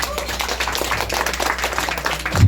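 A crowd applauds steadily at Carla's birthday celebration, a continuous patter of many hands clapping at moderate volume throughout.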